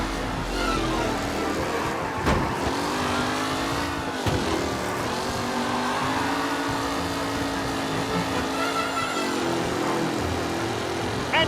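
Race cars roar around a track in Mafia: Definitive Edition, engines droning and shifting pitch as they rev and pass, a continuous loud mechanical whine with a few sharp bumps.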